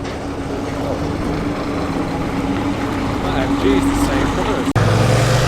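Classic Foden lorry engine at a road run, a loud, steady low rumble close by that holds throughout with a brief cut near the end before the drone resumes.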